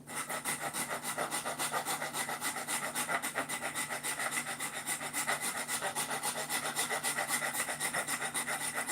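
A file worked back and forth on a notch in a wooden guitar body during a homemade guitar build, giving a continuous, rhythmic rasping scrape with quick even strokes, close and moderately quiet.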